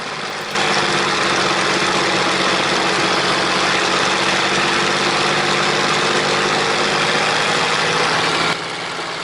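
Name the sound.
P-40N Kittyhawk V-12 engine idling during run-up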